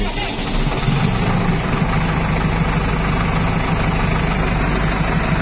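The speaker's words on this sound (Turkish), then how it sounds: "Şimdi traktör çalıştırıyor." A Massey Ferguson 6714S Dyna6 tractor engine runs at a steady, loud, low idle right up close, a continuous deep diesel rumble with no change in pace.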